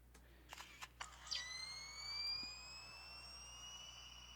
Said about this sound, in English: That's a phone sound effect I made